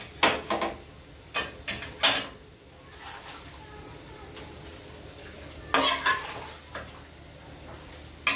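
A spoon stirs finely chopped onions into chicken karahi in a pan, giving a few sharp metallic scrapes and knocks spaced across a quiet background hiss, fairly close.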